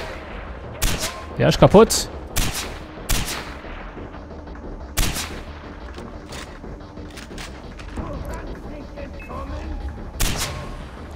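Gunfire in the video game Far Cry 4: several sharp, loud shots in short bursts spread across the scene, with someone talking in German between and over them.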